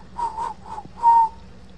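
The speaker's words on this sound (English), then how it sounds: "They whistle." A person whistles a short tune, several clear tonal notes followed by one longer held note, close and alone with no talk.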